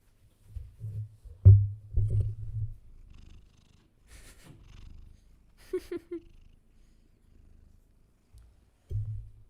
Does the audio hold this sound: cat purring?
yes